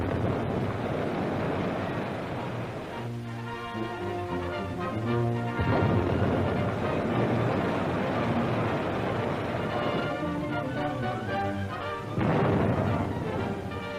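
A WWII Coast Guard cutter's Y gun fires depth charges at a submarine, heavy booming blasts and rumbling under strong wind and sea noise, with a narrator's voice over much of it.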